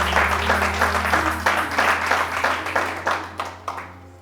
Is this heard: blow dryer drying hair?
no